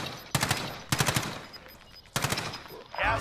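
Short bursts of automatic gunfire in a video game, three quick volleys of rapid shots separated by pauses, fairly close and moderately loud.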